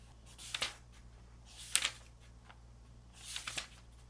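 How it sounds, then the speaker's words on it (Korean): Thin paper pages of a Hobonichi Weeks planner turned by hand, three soft crisp rustling flips spaced about a second apart, quiet and close with no talking. "네 번째는 종이를 넘기는 느낌과 소리가 좋습니다"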